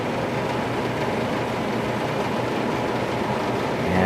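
A 1990 White Westinghouse dehumidifier runs with a steady, broadband whirring hum and a faint rattle, continuous and fairly close throughout.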